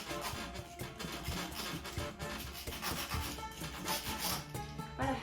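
Small hand tool scraping and rubbing as it cuts pizza gaina dough into half-inch strips in a dish for Easter pizza rustica, a soft continuous rasping that sounds close by.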